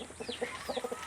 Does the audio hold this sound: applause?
no